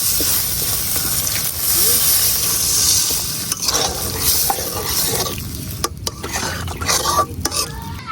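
Okra cooking with spices in a hot pan as water is poured in and stirred, a steady close sizzle and hiss with scraping stir sounds, faint voices in the background.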